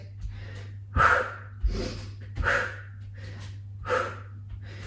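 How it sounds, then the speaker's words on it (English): Sharp, noisy breaths forced out through the mouth during a yoga HIIT workout, roughly five loud exhales and gasps in an uneven rhythm, close up with no talking. "Keep that breath breathing. Nice noisy exhales."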